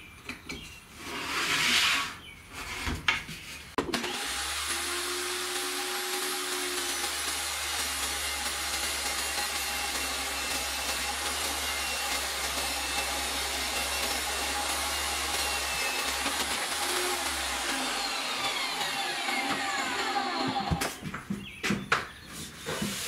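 A miter saw slices wood into 4.5-inch strips in a shed workshop, its loud, steady whine holding for about sixteen seconds before spinning down, with brief handling noises before and after.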